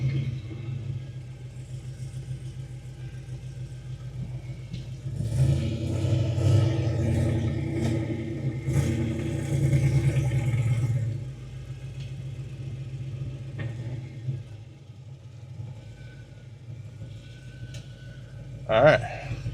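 A Pontiac GTO project car with an open shifter hole being driven, a low engine rumble that swells under acceleration and then settles, heard from the cabin.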